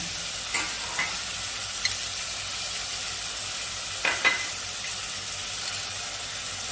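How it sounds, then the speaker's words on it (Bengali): Spices with ginger paste, garlic paste and onion paste fry in a pan for a pea ghugni. A steady, close sizzle runs throughout, broken by a few scraping stirs of a spoon. "এবার আমি মশলাটাকে ভালো করে কষিয়ে নেব।"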